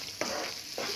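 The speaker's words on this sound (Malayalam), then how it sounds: "ഇത് നമ്മുടെ മുളകും നല്ലപോലെ വഴന്നു വന്നിട്ടുണ്ട്." Chillies sautéing in oil in a pan for a fish curry hiss with a soft, continuous sizzle, broken by two quick scraping stir strokes, close and quiet.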